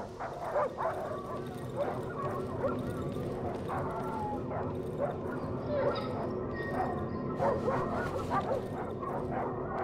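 A suffering dog in the horror game Darkwood whimpers, yips and barks in repeated short cries over a constant low drone, with someone talking throughout.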